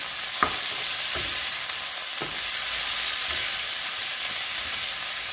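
Shrimp fry in a hot pan for salt-and-chili stir-fry, a loud continuous hiss of sizzling oil close up, with a few faint scraping stirs of a utensil against the pan.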